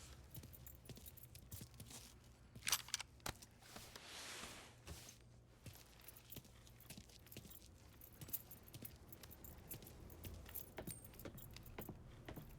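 Car keys jangle in the Mafia 3 video game: a loose series of light metallic clinks and rattles, scattered and irregular over several seconds, close up above a low background rumble.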